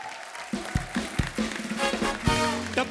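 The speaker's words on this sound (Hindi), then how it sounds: "जोरदार तालियां हो जाए हमारे सारे फनकारों के लिए" Studio audience applause on a comedy talk show, a brief burst of clapping mixed with a cheering voice and some musical tones.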